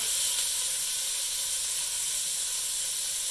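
Short ribs sear in a hot pan, giving a continuous bright sizzling hiss that holds steady and close for the whole stretch, with no talking over it.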